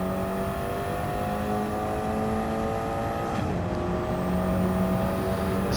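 A race car engine in Gran Turismo 7, on the Deep Forest Reverse track, holds a loud sustained whine as it accelerates uphill, with the pitch rising steadily and a brief shift dip midway.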